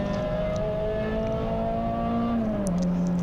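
Race cars, among them fast Fiat 500s, circulate a circuit during a club endurance race at Anglesey, a loud sustained engine drone with shifting pitch that falls as one car changes gear, close and with no talking.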